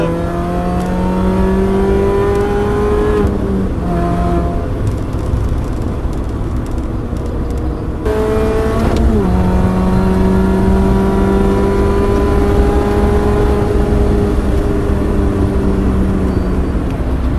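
A car on the Cadwell race track accelerates at full power, engine note climbing steadily with a short lift and brief dip before pulling hard again, loud and continuous.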